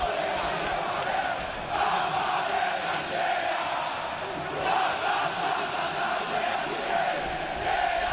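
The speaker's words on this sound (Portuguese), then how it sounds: "Olha a torcida aqui na arena." Corinthians supporters cheer and roar inside the arena during a Corinthians versus Palmeiras Brasileirão 2014 match, a dense, steady crowd wash with swelling shouts and chants all the way through.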